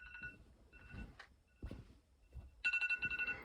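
A phone rings somewhere inside a blanket, muffled electronic tones that come through dull and broken at first, then sharper in quick pulses near the end, with rustling and soft thumps between them.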